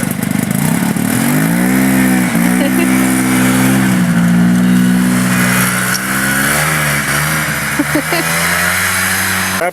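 A snowblower engine runs loud and close during a ride, its steady mid-pitched drone wavering as the throttle rises and falls, with voices talking faintly underneath.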